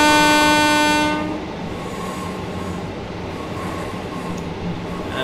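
A London Northwestern five-car electric train in Train Simulator 2019 sounds a sustained horn for about a second, then rolls on with a steady wheel and rail rumble near the West Coast Main Line.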